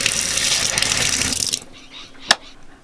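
A tap runs and gushes into a sink inside a DIY campervan, loud and steady, then cuts off abruptly, leaving near quiet broken by a single sharp knock.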